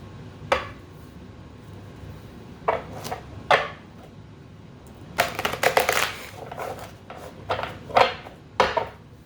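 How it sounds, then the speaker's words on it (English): Tarot cards being shuffled and cut by hand, heard as a series of short, crisp papery bursts with a denser riffling flurry in the middle, close and fairly quiet, with no talking. "Shuffle one last time."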